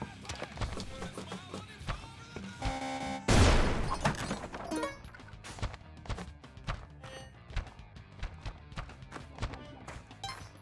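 Rapid bursts of explosions from a Spelunky 2 daily challenge run, a dense barrage of thuds and booms with one loud blast standing out, repeating through the whole stretch amid game sounds.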